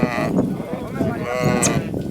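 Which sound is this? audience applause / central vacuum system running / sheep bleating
sheep bleating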